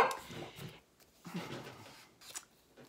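A dog named Sawyer under a table, making a few brief snuffling, whimpering and scuffling sounds in separate bursts, close by but fairly faint, with quiet gaps between them.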